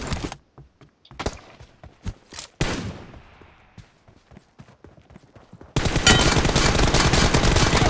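PUBG Mobile gunfire: scattered sharp single shots and short bursts with echoing tails, then a dense continuous fusillade filling the last two seconds, loud and without talk.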